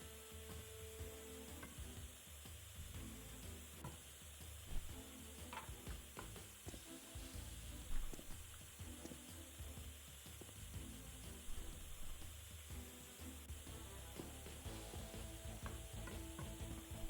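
Welding on a tank in the game Tank Mechanic Simulator, a faint continuous crackling hiss with occasional louder pops and ticks against a low mechanical hum, no voices.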